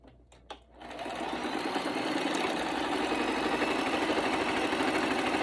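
An electric sewing machine stitching a shalwar: after a few brief handling taps, the motor starts and runs steadily with a fast, even rattling needle rhythm, loud and close, continuing without pause.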